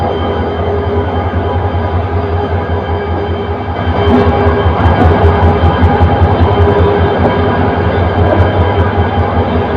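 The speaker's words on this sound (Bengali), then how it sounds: "তোরা কমিউটার ট্রেনটি কমলাপুর রেল স্টেশন থেকে ছেড়ে যাচ্ছে" A commuter train rumbles steadily as it pulls away from Kamalapur Railway Station in Dhaka, its low engine drone growing slightly louder midway, with faint clanks and squeals.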